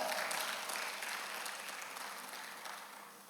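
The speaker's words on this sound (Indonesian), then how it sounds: "Tepuk tangan bagi dia." A church congregation applauds in one continuous burst of clapping, loud at first and slowly tapering toward the end, with no voices over it.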